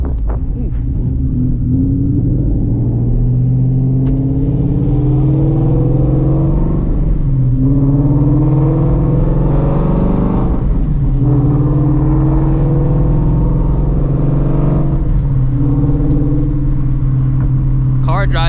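A Shelby GT350 on drag radials pulls hard from a rolling 40 mph, its engine roaring loud and climbing through repeated gear shifts, with a voice heard over the noise.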